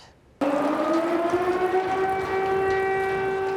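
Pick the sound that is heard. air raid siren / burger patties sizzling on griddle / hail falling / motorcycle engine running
air raid siren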